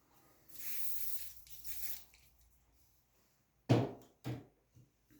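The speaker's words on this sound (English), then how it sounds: "So I'm going to spray this a bit." Two short aerosol bursts of WD-40 sprayed onto gearbox gearing during a Triumph TR6 transmission rebuild, close and crisp, coming after a longer hissy rustle.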